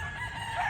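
A gamefowl rooster at a game farm crows in a brief single burst, close and moderately loud, with no talking.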